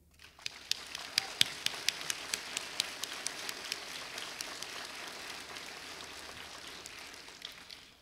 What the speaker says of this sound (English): Give yourselves a round of applause for endurance,